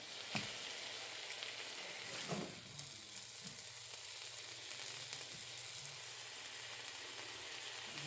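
Fish pressed down in a hot frying pan sizzles in a steady, even hiss with a few louder crackles near the start, with no voices.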